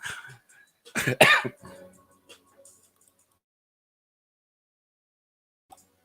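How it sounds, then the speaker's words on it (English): A person's coughing fit, a few harsh coughs clustered in a loud burst followed by weaker throat clearing and a faint click, then near silence. "I'm coughing my lungs out"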